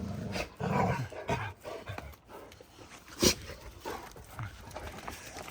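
Several dogs yelp and bark in short irregular bursts, with growling and scuffling, one sharp loud bark standing out midway.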